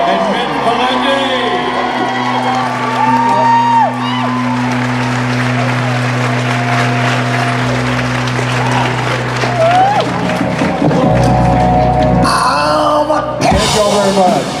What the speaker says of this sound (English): Ladies and gentlemen, a big round of applause, Mr. Jake Abel, Keegan, and Mitch Pileggi